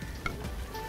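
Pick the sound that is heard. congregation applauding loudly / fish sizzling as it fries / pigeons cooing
fish sizzling as it fries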